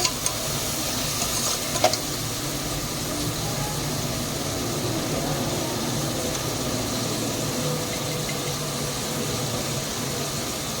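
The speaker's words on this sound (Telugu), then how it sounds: "కరివేపాకు, పచ్చిమిర్చి చీలికలు, ఇవన్నిటిని ఒకసారి కలుపుకోవాలి." Curry leaves and slit green chilies are stirred in a frying pan for a mutton and potato curry. A steady close sizzle runs throughout, with a couple of brief scrapes near the start.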